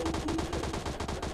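Rapid automatic M762 rifle fire in the PUBG Mobile video game, a fast continuous burst of evenly spaced shots, loud and close, with no talking over it.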